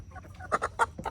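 A chicken clucks close by in a quick series of short, throaty bursts, several notes rising to louder peaks within about a second, with faint background noise.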